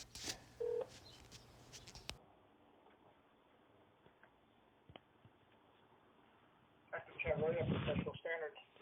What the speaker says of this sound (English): we're going to go ahead and listen to the recorded phone call